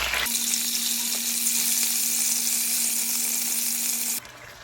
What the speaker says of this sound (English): fry the pork loin for 3 minutes on each side